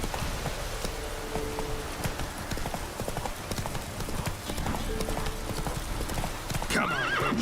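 Roach the horse gallops in The Witcher 3 video game, rhythmic hoof clip-clops close up ending in a loud whinny, over a steady background of rain.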